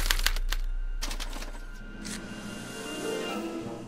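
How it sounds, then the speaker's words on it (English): A special typewriter in the Back to the Future video game clatters as it prints a punch card: rapid close mechanical strikes in bursts, followed by a steadier whirring mechanical rumble. "they're relayed to this special typewriter, which prints out a punch card that represents the subject's mind map"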